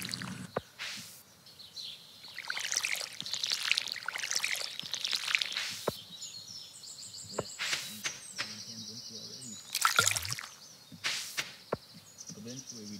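Crops are watered in the Stardew Valley farming game: repeated splashy pours from a watering can arrive in short bursts with gaps between them, over soft background game music, and no talking.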